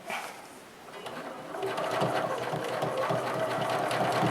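A quilting sewing machine stitches an ogee clamshell grid design, its motor starting softly then settling into a steady, fairly close mechanical whir, with faint background noise and no speech.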